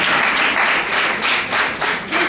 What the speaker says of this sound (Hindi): जरा थोड़ी बड़ी तालियां।